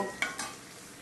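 Pieces of meat drop into sizzling fried masala in a pan, giving two quick close splashes of hiss and clatter that settle into a steady quieter sizzle, with no voices.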